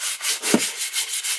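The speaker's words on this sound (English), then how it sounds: "give it a quick little sand where the yellow paint is going to go" Hand sanding on a vintage 1960s hatchet makes steady, rhythmic back-and-forth scratchy strokes at close range, about six passes, with a single soft knock in the middle.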